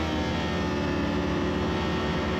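A race motorcycle on the grid at a New England trackday season finale revs hard before the start, a loud, steady, dense engine roar that holds without a break and with no talk.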